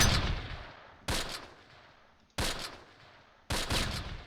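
Bursts of gunfire from a Close Combat World War II battle at Barenton in 1944, four sharp loud volleys about a second apart, each decaying into a rumbling tail, with no talking.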